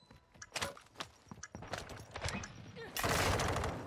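Gunfire in the Call of Duty Warzone video game, rapid bursts and a sustained volley of shots, fairly loud and dense throughout.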